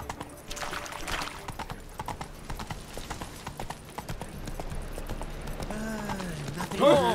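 Steady clip-clop of the horse Roach galloping in The Witcher 3, hoofbeats running continuously under game ambience, with a brief whinny or voice-like sound near the end.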